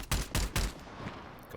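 Three sharp, loud gunshots in quick succession from a first-person shooter game about exploring the Radius, followed by a fading echoing tail with no talk.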